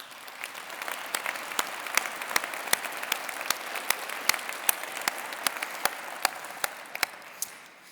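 An audience in a field house gives applause for Rob Taggart at a city's State of the City event, a moderate, steady patter with distinct sharp claps standing out at regular intervals, heard from a distance.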